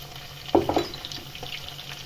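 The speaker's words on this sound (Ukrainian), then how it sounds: "зараз підсмажимо цибулю" Chopped onion frying in a pan for Ukrainian-style pilaf: a soft, steady sizzle with a short clatter of stirring near the start, no voices.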